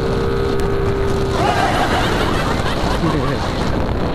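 A Mio Sporty engine fitted with a V8 V3 silent killer exhaust pipe revs up loud and close, its steady roar rising, with a few faint voices in the background.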